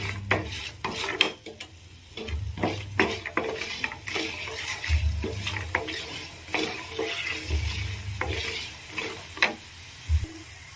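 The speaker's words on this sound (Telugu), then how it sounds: "నూనె వేసుకొని ఇందులోకి ఒక 2 టేబుల్ స్పూన్ వరకు పల్లీలను తీసుకొని వేయిస్తున్నాను" Two tablespoons of peanuts fry in oil in a pan, a steady low sizzle broken by repeated scraping stirs and light clatter, close up with no voices.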